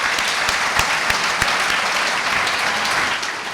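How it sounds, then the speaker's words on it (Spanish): A hall audience gives warm welcoming applause for a guest speaker, even and continuous clapping at moderate loudness with a few sharper individual claps standing out. "Para quien le pido un caluroso aplauso de bienvenida en el trabajo que hace."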